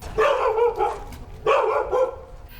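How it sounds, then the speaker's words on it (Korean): Dogs bark at a closed house where only a tenant lives, two bursts of two or three sharp, fairly close barks with a short pause between them. "개 짖는 소리만 들렸고"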